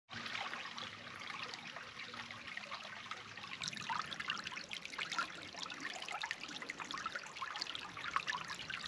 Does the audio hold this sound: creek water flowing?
yes